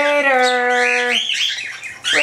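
Pet cockatiels squawking and chirping up close, a long harmonic whistle-like call followed by sharp rising squawks, loud and continuous, with no talking.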